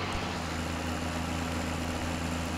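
A tractor engine idles in Farming Simulator 17 with a steady, even low hum and a constant mechanical drone, close and uninterrupted, with no talking.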